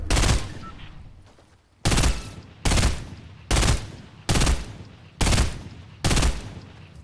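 Loud gunfire in an online shooter game, a burst of sustained fire followed by six evenly spaced heavy shots, close and punchy, with no talking over them.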